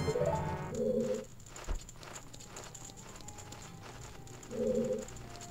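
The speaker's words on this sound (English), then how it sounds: "my printer's turning on, so I'm sorry if you can hear that, because my mum is apparently printing something" A home printer switches on and prints, two short faint mechanical whirring bursts with quiet clicking in between, heard from a distance in a quiet room.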